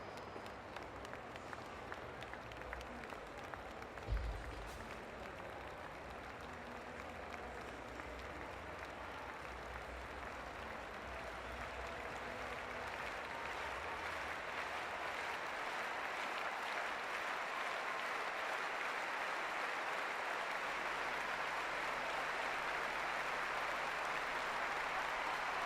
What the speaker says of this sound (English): Applause over on the east stand for the long jump competition.